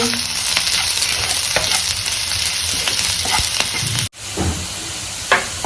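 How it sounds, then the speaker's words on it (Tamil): Curry leaves frying in oil with golden-brown onions, a loud continuous sizzle and hiss with scraping stirs of a spoon in the pan, briefly dipping before the frying noise resumes. "இப்போ 2 கொத்து கருவேப்பிலையை ஆட் பண்ணிடலாம். போட்டு நல்லா கலரி விட்டுக்கலாம்"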